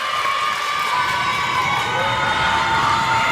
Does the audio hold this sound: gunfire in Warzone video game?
no